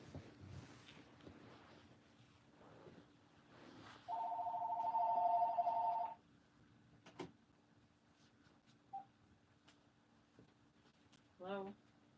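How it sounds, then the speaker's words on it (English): A telephone rings once in a loud, steady electronic tone lasting about two seconds, with quiet talk and faint background noise around it. "It's my mom. I gotta get the phone."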